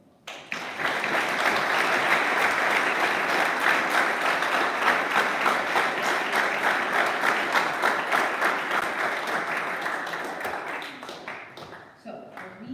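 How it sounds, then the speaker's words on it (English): An audience at a National Honor Society induction ceremony breaks into sustained applause, many hands clapping steadily and loudly for about ten seconds before fading, with a voice starting up again near the end. "I'd love to give you all a round of applause."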